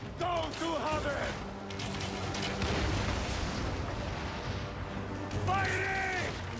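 Ship cannons fire in a naval battle in the video game Assassin's Creed Origins, a dense, continuous rumble of booms and crashes with voices shouting over it.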